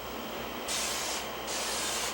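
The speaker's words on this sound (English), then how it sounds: "So first, you have to kind of spray some glue underneath, real good, and then spray the edge" Adhesive glue sprayed from an aerosol can onto the underside and edge of a table, heard as two steady hissing bursts close by, the second longer than the first, with no talking.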